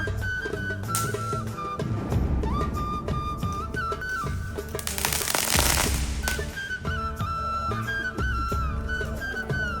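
Diwali firecrackers burst in a dense crackling volley, peaking in a loud rattling cluster midway, with music or tones continuing throughout.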